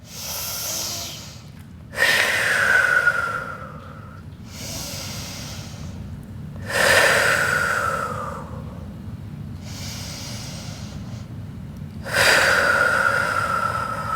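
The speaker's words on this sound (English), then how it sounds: "Let's take 3 deep breaths here." Slow, deep yoga breaths, three long airy exhales spaced a few seconds apart, each a close rushing sigh with softer inhales between, no talking.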